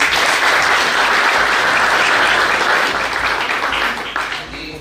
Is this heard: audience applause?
yes